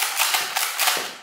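Nerf Zombie Strike Strongarm foam dart blaster fired in a quick series of about five sharp snapping pops, close and fairly loud, with no talking.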